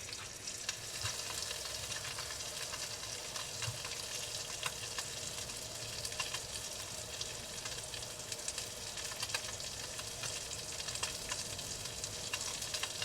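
Food sizzles steadily in a thin pan over very low heat on a survival trip on Santa Rosa Island, a continuous close crackle with faint stirring scrapes throughout and no voices.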